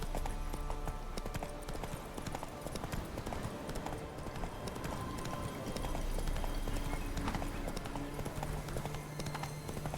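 Roach, a horse in The Witcher 3, trots along with a steady clip-clop of hooves that runs the whole time under game ambience and other noise.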